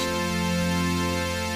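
A sustained tone from two independent wavetable synthesizers, dense with even harmonics, holding steady and loud for the whole moment with no rhythm or break.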